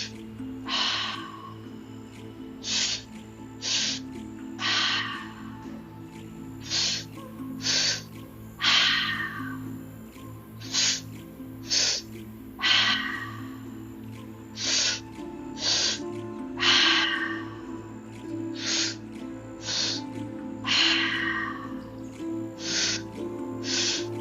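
Rhythmic, forceful mouth breathing during a group breathwork meditation, with sharp inhales and exhales repeating every second or so over a low steady background hum.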